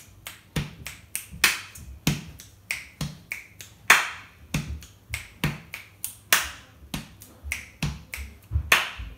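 Crisp finger snaps ring out in a steady rhythmic pattern as body percussion, about two dozen close, sharp clicks with no talking.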